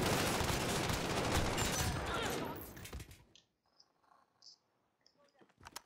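Heavy, dense gunfire in Call of Duty Modern Warfare during a Domination match, loud and continuous for about three seconds before cutting off abruptly, followed by scattered faint shots and clicks.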